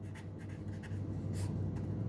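A pen scratching across paper as a geometry problem's given statement is written out, with a steady stream of soft, close strokes and no talking.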